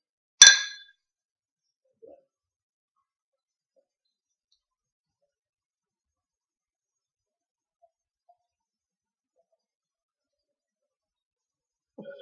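A single bright clink of beer glasses meeting in a toast rings out once near the start, then a long near-silence follows with only a faint tap or two.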